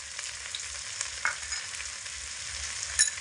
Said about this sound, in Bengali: এবার এগুলোকে খুব ভালো করে একটু নাড়াচাড়া করে ভেজে নেব।